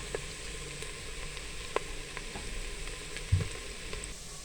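Steady sizzling of onions frying in hot oil in a clay pot, with occasional soft stirring clinks and a low thump near the end; no voices.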